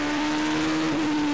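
Onboard race car engine at the Qatar circuit during a 2006 GP Masters qualifying lap, a loud, steady high-pitched engine drone with a brief pitch dip as a gear changes, no talk.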